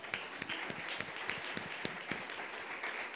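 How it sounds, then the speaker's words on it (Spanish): Church congregation applauding after a sermon on legalism: a steady wash of many hands clapping at moderate volume, with scattered sharper claps standing out. "aplauso al Señor"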